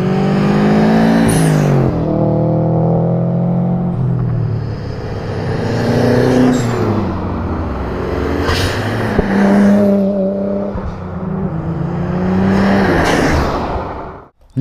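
A Nissan GT-R engine revs hard on a track, loud and close, the pitch climbing and dropping through repeated accelerations across the whole stretch.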